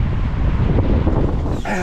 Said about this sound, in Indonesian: Wah, angin kenceng gini lihat tuh, kincirnya jadi kenceng.